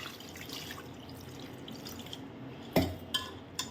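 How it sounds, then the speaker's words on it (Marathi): Water splashes and sloshes in a bowl as homemade butter is rinsed by hand in clean water, with a few sharper drips and clinks near the end. "आता आपण हे दोन तीन पाण्याने धुवून घेत घेणार आहे"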